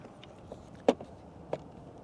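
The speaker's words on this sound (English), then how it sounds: "Pop the trunk." A quiet click and a second softer clack come from a car trunk latch being pulled open, close and brief against a faint background hush, with a couple of tiny ticks around them.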